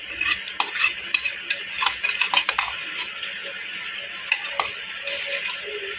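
A spoon stirs leftover ginger, garlic and green chili paste into a village-style masala fish curry in a pan, giving scattered metallic scrapes and clinks over a low, faint sizzle.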